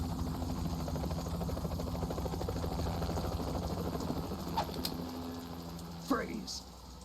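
Helicopter rotor drone from the Metal Gear Solid 2 video game, a steady low thrum running throughout under game speech and music, with a brief sweeping sound near the end.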